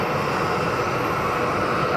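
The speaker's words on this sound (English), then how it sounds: "As Etihad Dreamliner is lining up on the active." Etihad Boeing Dreamliner airliner lining up on the runway at Geneva Airport, a steady, loud broadband jet engine roar holding constant throughout with no talking.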